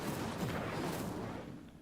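A fire spell cast in the Hogwarts Legacy video game gives a loud, dense burst of roaring, crackling flame that holds steady and then thins and fades toward the end.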